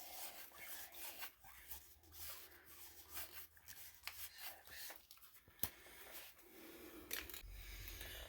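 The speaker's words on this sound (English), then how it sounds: "So because this is white tape, we need to wrap it at least 6 times." White Teflon tape is wrapped around a threaded pipe fitting during a pressure reducing valve replacement on a water main, giving soft, close rubbing and rasping strokes in an uneven rhythm at low volume.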